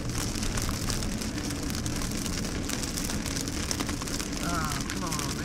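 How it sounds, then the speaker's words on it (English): Steady rain drumming on a vehicle during a tornado chase near Beaver, Oklahoma, a dense continuous hiss that stays loud throughout, with faint voices in the background. "Rain."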